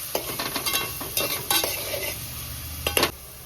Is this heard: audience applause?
no